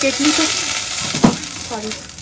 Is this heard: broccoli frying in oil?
yes